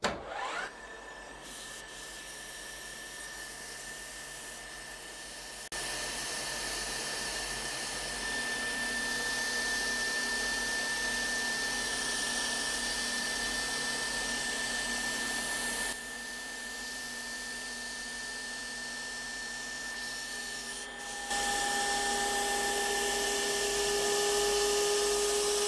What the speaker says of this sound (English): we're taking a 10 millimeter deep cut in tool steel